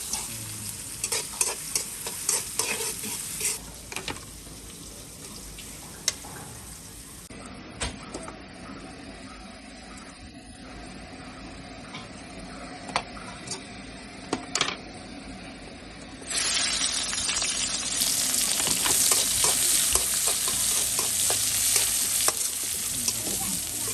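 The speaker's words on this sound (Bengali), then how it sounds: "আগে আগে বেরেস্তাটা ভাজি দিছি" Onions frying for beresta sizzle steadily in hot oil while a utensil stirs and scrapes the pan with irregular clinks and scratches, growing louder and denser near the end; no talking.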